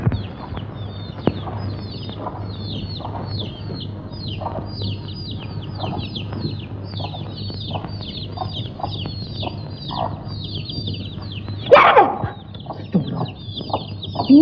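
Chickens cluck and chirp in steady, repeated calls throughout, with a low constant hum beneath and a brief louder rustle near the end.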